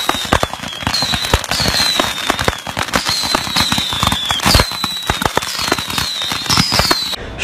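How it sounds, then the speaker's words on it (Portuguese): Fireworks go off outdoors in a dense, steady barrage of crackling bursts and pops, with faint whistling streaks rising repeatedly above the loud, continuous crackle. "Fogos!"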